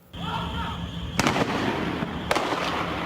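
Gunfire rings out during a night-time ATM bank robbery in Lagoa da Prata, Brazil, in news footage: two sharp, loud bangs about a second apart, with a noisy background between them.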